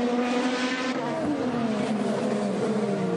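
Alex Palou's Ganassi IndyCar taking the final corner at Laguna Seca, a loud, close, high-revving engine whine sweeping in pitch as it passes, continuous throughout, with a commentator's voice faintly beneath.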